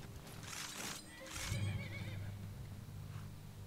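A horse neighs loudly in Skyrim, a drawn-out whinny with a snorting tail, heard alone against a low rumbling background.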